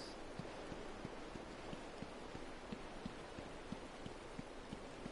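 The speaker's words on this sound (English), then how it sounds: "It rains all the time." Steady rain hisses down in a Batman video game, a dense wash of falling water with faint regular ticks of drops hitting a surface, soft and continuous with no voices.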